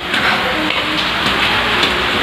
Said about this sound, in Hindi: अभी भी बारिश की हो रही है, काफ़ी सारी बारिश हो रही है।